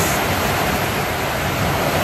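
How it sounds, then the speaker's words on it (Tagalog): Heavy rain and strong wind lash a house in a typhoon-like storm, a steady, dense, unbroken roar that stays loud and close throughout with no voices. "Grabe lakas ng ulan, lakas ng hangin."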